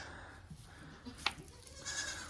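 A sheep on a farm gives a short bleat amid low background noise in a pen, with a brief sharp sound near the middle and faint farmyard ambience around it.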